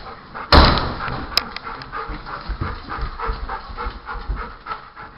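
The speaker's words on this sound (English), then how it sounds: "That's the dog. That's my dog." A dog panting in quick, soft rhythmic breaths close by, after a sharp thud like a door at the start, with no talk.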